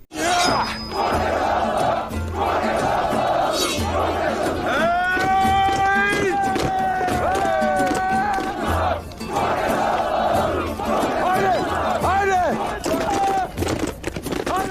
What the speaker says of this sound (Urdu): قبیلے کے لوگ اسلحان اور ترگت زندہ باد کے نعرے لگا رہے